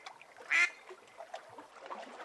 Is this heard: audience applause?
no